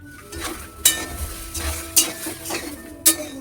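Vegetables with salt, turmeric and a splash of water sauté in a pan, a soft steady sizzle punctuated by three sharp metallic spatula clicks against the pan at regular intervals.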